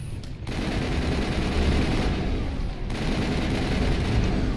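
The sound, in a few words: gunfire in Mass Effect video game battle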